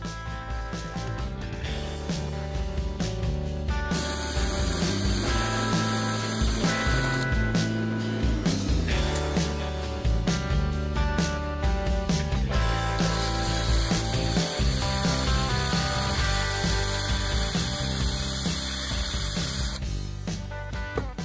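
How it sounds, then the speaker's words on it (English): Sanding a wet-turned wooden piece spinning on a lathe: a steady, loud, continuous whirring abrasive hum with shifting rubbing tones, running alone without talk. "Okay, I'll go ahead and get it sanded up now."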